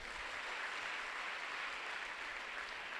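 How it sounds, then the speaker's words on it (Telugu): A church congregation claps their hands together in a steady, dense wash of clapping that holds evenly throughout. "చప్పట్లు కొట్టండి ఒకసారి"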